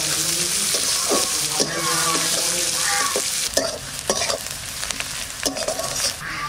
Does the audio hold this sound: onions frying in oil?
yes